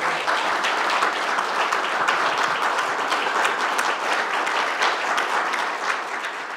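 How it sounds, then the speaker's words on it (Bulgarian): Sustained applause from an audience at a debate club event, dense and even, continuing at a steady level for several seconds. "Дами и господа, моля за вашите аплодисменти"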